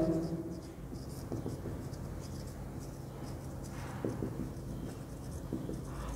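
Writing on a board during a calculus lecture: faint, scattered scratchy strokes over a steady room hum, with no speech.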